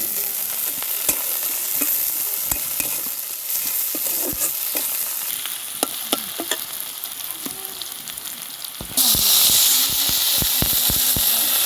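Two bay leaves and four green chillies frying in oil for a Bengali silver fish curry, a close crackling sizzle with sharp pops and spoon taps, and the hiss growing louder and brighter toward the end.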